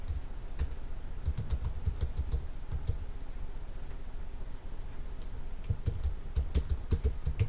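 Rapid clicking keystrokes on a computer keyboard while entering login details, close and fairly crisp, coming in uneven bursts with short pauses between them and no talk.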